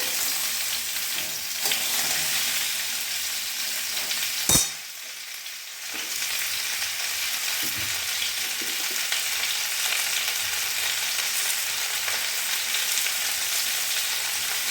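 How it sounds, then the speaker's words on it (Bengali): Mango pieces fry in hot oil while a spatula turns them for a sweet-and-sour jaggery mango pickle, producing a steady close sizzle with one sharp clack and occasional scrapes. "তেলের মধ্যে দেওয়া আমগুলো একটু খুন্তির সাহায্যে এদিকে দিকে নেড়ে দিলাম।"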